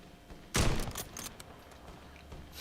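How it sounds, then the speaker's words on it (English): A sudden loud burst of gunfire, then scattered fainter shots and clatter fading into low background noise. "Y'all hear the gunshots, bro."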